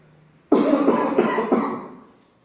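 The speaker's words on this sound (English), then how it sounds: "Coughing is not great in OneTake video." One person coughs loudly and close up, a rough burst followed by a couple of further hacking pulses that fade over about two seconds.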